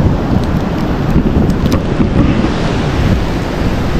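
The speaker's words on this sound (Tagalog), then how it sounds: "Lakas pa rin yung alon wala pa rin bangka na makalaot." Strong sea waves surge and crash continuously, a loud, dense roar mixed with heavy wind buffeting the microphone, near and steady with no talk.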